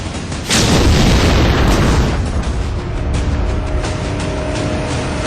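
A loud, sustained explosive boom from a bomb strike, rising sharply after a brief lead-in and rolling on as a dense, roaring rumble that fades only slightly toward the end.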